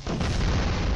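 A bomb goes off in the Skibidi Toilet animated game, one dense, loud, rumbling blast that fills the whole short moment without a break.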